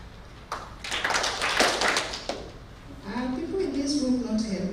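Audience clapping fills a forum room at the ICCC Tanzania business and leadership launch, a burst of dense applause lasting under two seconds that fades out, followed by someone speaking.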